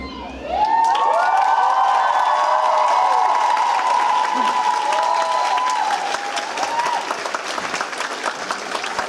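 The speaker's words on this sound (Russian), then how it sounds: "Еще раз провожаем их очень громкими аплодисментами" Loud audience applause with cheering rises at an anime fan festival stage show in Siberia and continues steadily for several seconds. A held whistle or tone sounds above it, and the applause then gradually thins out.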